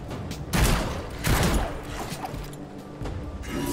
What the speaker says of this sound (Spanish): Disparo salvaje, sí.